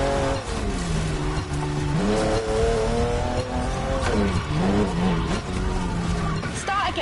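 A 1,000-horsepower M4 drift car sliding in The Crew Motorfest, its engine revving loudly with rising and falling pitch as it drifts, tires squealing, under someone talking.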